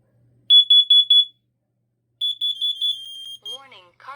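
A Kidde KN-COB-IC carbon monoxide alarm under test gives loud, shrill electronic beeps close by: a quick burst of four, a pause, then another rapid run of beeps, with a spoken voice warning starting as they end.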